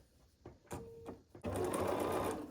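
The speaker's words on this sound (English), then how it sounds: "And then we're going to sew across here." A sewing machine stitches red and white quilt block pieces, starting after a few soft handling clicks and then running in a loud, close, steady whirring burst to the end.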